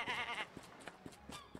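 Sheep bleat in the farming video game Summer in Mara, a wavering bleat up front followed by several short, fainter bleats or clicks spaced through the rest.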